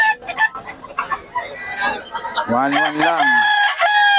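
Chickens at a Bocaue market cluck and a rooster crows loudly and close, the long crow rising and holding after someone talks over scattered clucking.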